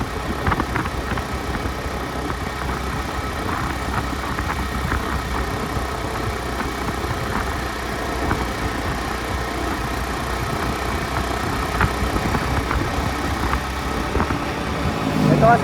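Motorcycle tuned for climbing labours up the Marilaque mountain road, a steady mid-low engine drone running throughout with slight rises, while a rider talks over it.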